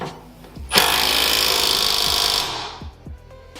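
A rattle gun or ratchet runs up Hardrace lower control arm bolts on a DC5 turbo build, a single loud, near whirring burst of about two seconds, followed by a few sharp metallic clicks.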